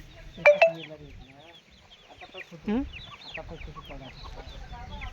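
Free-range country chickens for sale on a fish and poultry farm cluck and squawk nearby, with a couple of loud sharp calls at the start and softer scattered clucks afterward.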